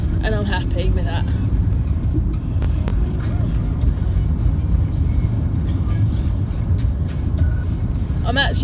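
A car driving along a road, its steady low engine and tyre rumble continuous and fairly loud throughout, with a voice talking over it at times.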